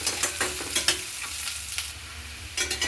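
Chopped onion with a little salt sautéed in a pan for dry potato curry, stirred with a spatula in repeated scraping strokes over a steady soft sizzle, close by, with no talking.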